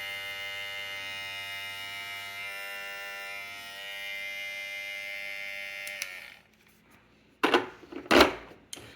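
NOVAH cordless hair clippers hum steadily at turbo speed with a bright, even buzz for about six seconds, then cut off, followed by a few sharp handling clatters.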